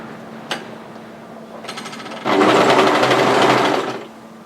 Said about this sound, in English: place it right side together to the center panel, and overlock that one into place